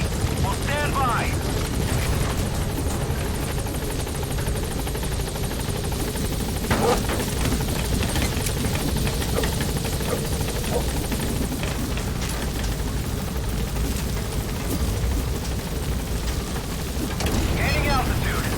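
Military transport helicopter in Metal Gear Solid 5 arriving at a landing zone, its dense rotor roar steady and loud throughout, with radio-style voice chatter over it.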